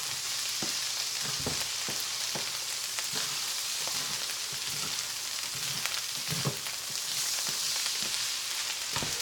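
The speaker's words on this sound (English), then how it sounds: "That'll deglaze the pan a little bit." A hot pan sizzles steadily during deglazing while fried rice is cooked, giving a constant bright hiss with scattered pops and stirring scrapes, close and loud, with no speech.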